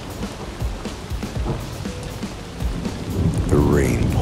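Steady heavy rain pours down while low thunder rumbles and builds, with a rising whine-like tone surfacing near the end.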